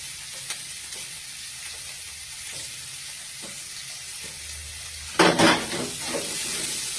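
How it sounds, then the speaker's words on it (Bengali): Chopped onion and capsicum fry in hot oil with a steady, bright sizzle. Near the end comes a louder burst of stirring and scraping in the pan, then the hiss settles back to constant frying. "পেঁয়াজ ক্যাপসিকাম কুচি ভাজছি, তো এটা ভাজা ভাজা হোক।"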